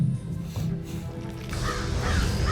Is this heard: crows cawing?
yes